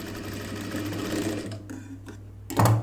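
A sewing machine runs steadily, stitching a quarter-inch tuck into a blouse, its motor hum continuous before slowing briefly and surging louder at the end; no one speaks.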